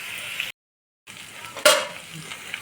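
Cauliflower and potato curry is stirred in a pan, spatula scraping and food sizzling in short bursts, broken by a brief silence and one sharper clatter near the end.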